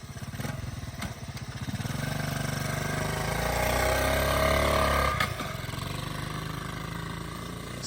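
A small Honda dirt bike engine idles with a rapid putter, then revs up and holds a steady roar as it rides off on a short lap, dropping back to a lower drone near the end.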